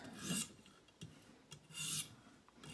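Green River mountain man knife drawn across a sharpening stone: faint, close rasping strokes in an uneven rhythm, with a few long scrapes and short grinding pushes and no talking.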